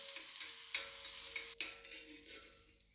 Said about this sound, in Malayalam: ഈ ഒരു ചെറിയ ചട്ടിയിൽ വെളിച്ചെണ്ണ അതിൽ ചെറിയ ഉള്ളി അത് വഴറ്റി ചേർക്കണം